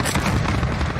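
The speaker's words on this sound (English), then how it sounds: "Enemy cruise missile incoming." A loud, dense boom from an incoming cruise missile explosion in a video game, filling a short burst with a deep rumble and no talking.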